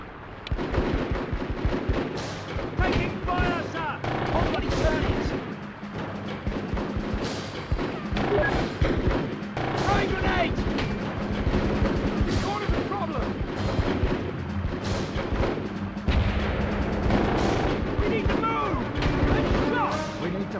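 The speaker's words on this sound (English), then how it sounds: "We're under fire!" Gunfire from Full Spectrum Warrior on PS2, dense and loud, crackles and booms steadily throughout with overlapping shots, while soldiers' voices shout over it.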